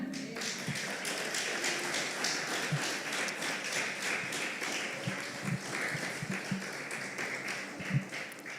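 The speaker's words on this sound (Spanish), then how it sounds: "Vamos a darle un aplauso a nuestro Padre." Congregation applauding in a church service, a dense, fairly quiet patter of many hands clapping steadily at some distance, with a few soft knocks underneath.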